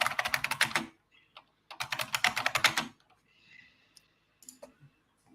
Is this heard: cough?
no